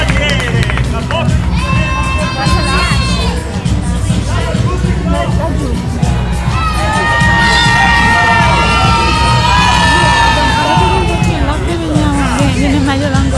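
A live audience at an entertainment show in Celle Ligure shouts and cheers in loud, sustained bursts of overlapping voices, with a host's voice heard among them.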